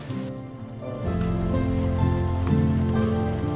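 Rain falls on a house in the video game Vintage Story, a soft steady patter under looping tonal background music, with no talk.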